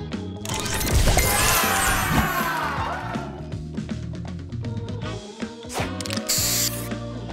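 A spray booster fires in a match puzzle video game: a loud, dense hiss and whoosh, then clattering, smashing effects and a bright chime, all close and without talking.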